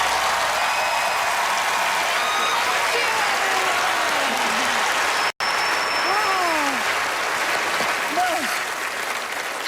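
Audience applause after a magic trick performance on a televised magic competition stage, a loud sustained wash of clapping with a brief cut partway, while bird-like whistling tones and chatter ride over it.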